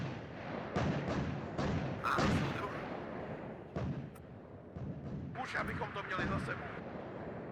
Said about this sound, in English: Pretty cool watching this artillery go so far